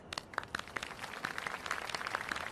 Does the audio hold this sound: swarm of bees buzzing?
no